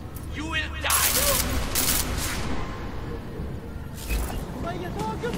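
Gunfire in the video game Deus Ex Mankind Divided, a few bursts of shots rising over a busy game soundscape, with a voice talking over the action.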